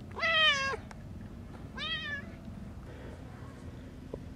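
A friendly cat gives two clear, drawn-out meows close by, the second slightly shorter, followed by quiet background hum and faint movement.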